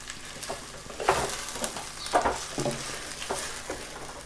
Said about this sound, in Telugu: మొత్తం ముక్కలన్నిటికీ ఆ ఆయిల్ ఉల్లిపాయలు అంతా పట్టే విధంగా కలుపుకున్నాం కదా